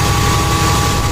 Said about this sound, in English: you guys can hear it's idling quite high